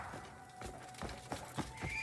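A horse in a video game neighs and whinnies with a few hoof clip-clops, heard alone and fairly faint, in a short burst of stepped calls.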